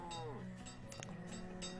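Cattle in the village-building game Banished give a drawn-out, fairly quiet moo over a low steady background, with faint clinking and rustles after it.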